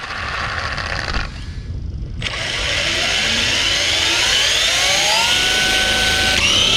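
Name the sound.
Traxxas E-MAXX RC truck with Twin Titan 550 motors accelerating through gears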